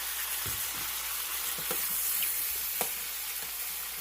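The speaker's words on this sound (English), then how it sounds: "keep that heat up high because you don't want them. You want fried potatoes." Sweet potatoes fry in a pan over high heat, a steady bright sizzle running throughout with a few soft scrapes and stirring taps, close and continuous with no talking.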